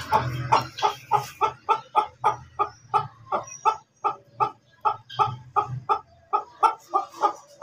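Hens in a home poultry pen cluck in a steady, rhythmic series of close, clear calls, one after another with short gaps, alone without talk.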